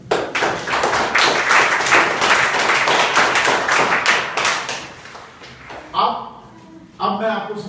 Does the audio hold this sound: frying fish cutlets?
no